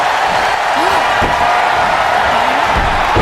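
A wrestler crashes onto the ring mat after a monkey flip at a RAW event: a sharp slam near 1.2 seconds and another heavy thud near 2.8 seconds, over a steady roar of arena crowd noise.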